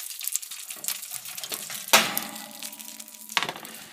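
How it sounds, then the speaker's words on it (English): Sausages sizzle in a pan with a soft hiss, broken by a sharp clink of cookware near the middle and another knock toward the end. "You can see it all sizzle."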